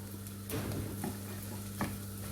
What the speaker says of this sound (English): Now I'm going to add my onions, and I'm going to cook my onions